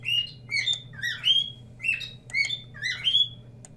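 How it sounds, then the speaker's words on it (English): A pet bird squawks and chirps in a run of sharp, rising calls repeated steadily and loudly at close range over a low steady background hum, with no voices. "shut up, bird"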